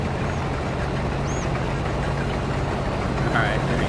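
Combine harvester engine in Farming Simulator 22 hums low and steady the whole time, a continuous mechanical drone with no break.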